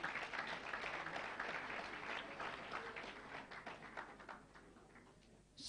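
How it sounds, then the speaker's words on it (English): Applause from the audience at an essay competition grand finale honouring the top three winners, a dense, even patter of many hands that holds steady and thins slightly toward the end, heard from a distance. "Please give them a round of applause once again."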